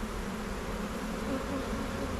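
A dense, steady buzz of many honeybees during a swarm hive inspection, continuous and fairly loud and close, with no voices.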